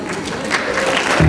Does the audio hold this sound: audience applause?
yes